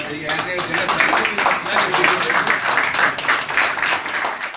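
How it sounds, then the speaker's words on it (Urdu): Applause fills a hall after election results are announced at a Pakistani association meeting in Hong Kong, a dense, steady wash of clapping sustained throughout. "تو ہال تالیوں سے گونج اٹھا"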